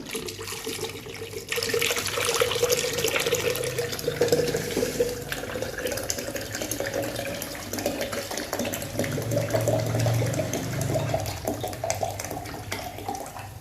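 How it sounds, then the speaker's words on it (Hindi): Water runs steadily from a tap into an open cooking pot, adding 1 litre for kadhi pakora, a continuous rushing splash that holds at an even level throughout. "1 लीटर पानी ऐड करेंगे।"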